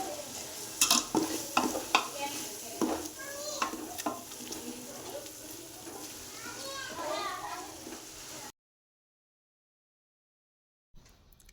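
Tomatoes with salt stirred in a frying pan, a scraping, sizzling stir with sharp utensil knocks early on, then a sudden cut to near silence; children's voices sound faintly in the background.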